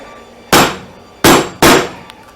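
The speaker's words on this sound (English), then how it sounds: "because you're chopping against the end grain of the red oak, it's very, very, very hard, and it's quite difficult to chop it out" A hammer strikes a chisel chopping into hard red oak end grain, three sharp, loud, close whacks, the last two in quicker succession, each with a brief ringing decay.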